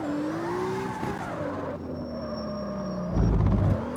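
A car with sports tires drifts through corners in CarX Street, its engine droning and shifting pitch as the tires squeal, with a brief rougher scrub near the end.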